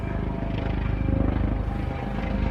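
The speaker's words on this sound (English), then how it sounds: "There's a helicopter passing over my house right now." A helicopter's steady, thudding rotor drone fills the whole stretch, loud and continuous as it passes overhead.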